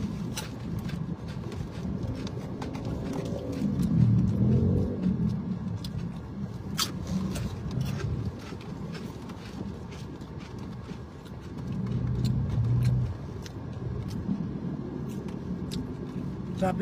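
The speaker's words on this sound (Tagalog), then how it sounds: "Traffic dito ah." Street traffic with cars passing on a busy road, a steady moderate rumble that swells as vehicles go by, with scattered clicks and light handling noise close to the recorder.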